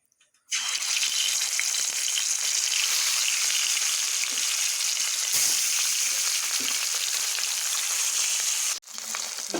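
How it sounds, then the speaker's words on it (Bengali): A rohu fish head drops into hot oil and erupts into a loud, steady frying hiss that holds for several seconds, then briefly dips before sizzling again. "তেল গরম হয়ে গেছে, আমি দিয়ে দিব এখানে মাছ।"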